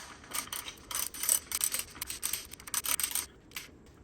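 A ratchet tightens 16 mm bolts on a Porsche Tiptronic transmission, with quick bursts of close, faint clicking in uneven runs separated by short pauses.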